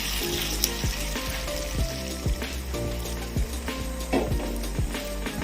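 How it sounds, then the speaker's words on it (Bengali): Warm water goes into sizzling fried masala for a Bengali fish korma, producing a soft bubbling and sizzling with repeated small pops and crackles, fairly quiet and close, with no talk. "জল দিয়ে দিলাম আমি।"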